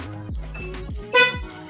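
A FIAMM Freeway Blaster high-note horn fitted to a Mazda MX-5 gives short, bright honks in quick succession, close and fairly loud, with one stronger blast near the end.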